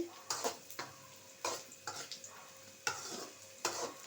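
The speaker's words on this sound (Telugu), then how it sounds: "కాకరకాయలు అయితే ఇలా వాడ్చుకోవాలి వాడుస్తూ ఉన్నాను నేనైతే" Bitter gourd being sautéed in a pan, with repeated stirring scrapes and a soft sizzle coming in irregular bursts, close and fairly quiet.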